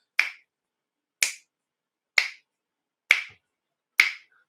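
Five crisp finger snaps ring out alone at an even pace about one second apart, each sharp and close with a quick decay into silence.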